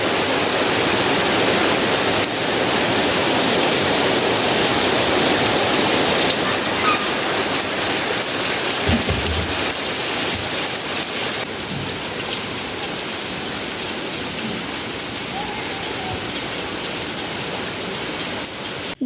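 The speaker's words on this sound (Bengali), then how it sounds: "চাইলে টিনের চালে হওয়া বৃষ্টির শব্দ এখন শুনে নিতে পারেন" Heavy rain drums on a tin roof of a village house, a loud, dense and unbroken hiss of drops lasting throughout with no voices.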